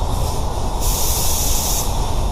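Spray gun laying Spies Hecker High-Tech silver base coat onto a car door, a steady close hiss that swells louder midway through the pass, with no talking.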